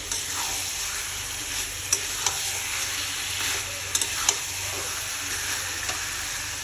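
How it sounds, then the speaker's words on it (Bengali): Fried potatoes sizzle in a pan while being sautéed and stirred, a steady close frying hiss broken by a few sharp scrapes of the spoon against the pan. "আলুগুলো অ্যাড করে দেবো, যে ভেজে রাখার আলুগুলো রেখেছিলাম। তো এটাকে প্রায় ফের আমি মিনিট 5-6 মতো এরকম কষাবো।"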